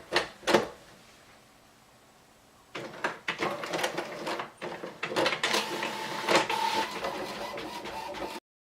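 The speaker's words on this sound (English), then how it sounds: "And you are going to print it." A home printer prints a page: after a couple of early clicks and a quiet pause, a steady mechanical whir with rapid rattling carriage passes runs continuously for several seconds, close by, with no talking.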